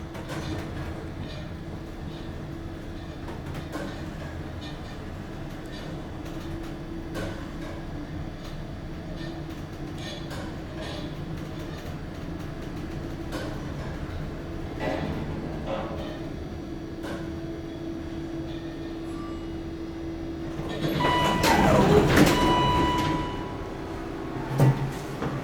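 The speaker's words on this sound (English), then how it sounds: "We got a 3-speed door." A three-speed door on a vintage traction elevator at Notre Dame Hospital in Montreal runs over a low steady machine hum with scattered clicks and knocks, then a louder rumbling burst of door movement near the end.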